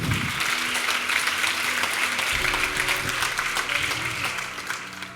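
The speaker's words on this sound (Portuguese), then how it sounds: "Pode aplaudir o Senhor" A church congregation applauding during a sermon, sustained full clapping from many people that fades slightly toward the end.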